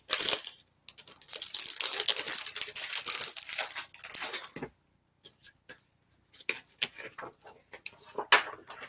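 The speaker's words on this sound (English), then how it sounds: "Why don't we emboss this with the new embossing folder while we're at it?" A card is embossed with a brand-new embossing folder. Loud, close crackling and crunching comes in bursts with short silent gaps, like plastic and card being pressed and flexed.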